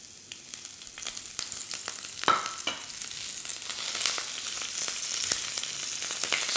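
Spring onion and seafood pancake batter sizzles and crackles in hot oil in a pan, a steady close frying hiss with scattered pops and spits.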